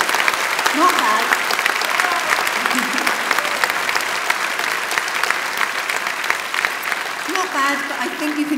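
Graduation ceremony crowd at a Milton Keynes degree ceremony keeps up a sustained, dense round of clapping, steady and fairly loud, with scattered voices and calls mixed into the applause.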